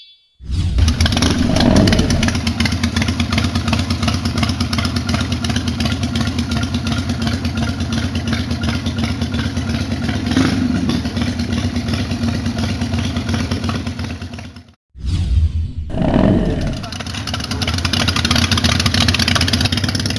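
A Zero Engineering custom motorcycle engine starts and runs steadily at a loud, close idle with a low throbbing rumble, cuts out briefly near the end, then fires up again with a short rev before settling back to running.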